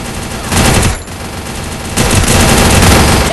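Loud, dense gunfire in the Free Fire battle game, a continuous rattling barrage with a brief dip near the one-second mark before the shooting surges again.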